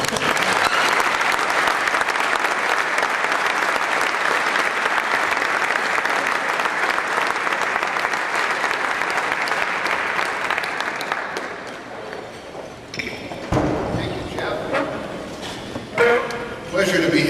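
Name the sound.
audience applause welcoming Commissioner Selig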